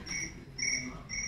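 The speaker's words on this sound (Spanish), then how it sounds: "un grillo." Cricket chirping in short repeated bursts, three pulses about half a second apart, fairly close and clear over a low background hum.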